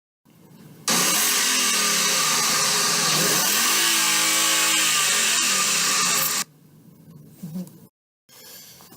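A race car engine revs hard in a loud, sustained roar that climbs and falls in pitch for several seconds and then cuts off, followed by brief fainter noises.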